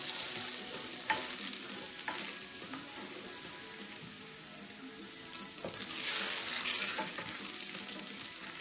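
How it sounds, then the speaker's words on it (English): Steady, crackling sizzle of food frying in a pan, with occasional clinks of a utensil stirring, continuing evenly without any talking. "So you just want to let them sizzle a little."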